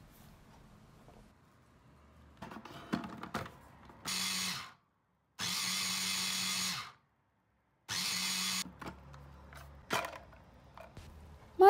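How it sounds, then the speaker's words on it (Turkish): Food processor chopping parsley, onion and garlic in three loud whirring bursts, each a second or two long with short silent gaps between, framed by clicks and clatter of the lid and bowl. "Ben önce maydanozumla soğanımı çekeceğim."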